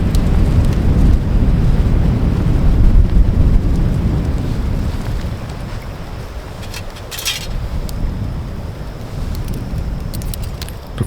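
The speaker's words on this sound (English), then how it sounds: "the wind really starts to pick up." Strong, gusty wind by a lake in Norway roars and buffets the microphone in a constant, loud rumble, easing slightly midway, with faint jingling clicks at times.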